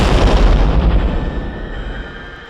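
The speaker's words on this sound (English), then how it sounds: "the bomb ignited, blowing the dream demon to shreds" A bomb goes off with a heavy, loud boom that hits hard at once and then rolls away into a long, fading low rumble, with no voices over it.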